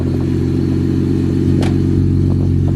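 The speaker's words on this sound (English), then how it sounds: "Can you quickly get a cold start of my car?" Nissan R33 Skyline engine idling steadily right after a cold start, a loud, close, even low rumble with a brief rise in revs partway through.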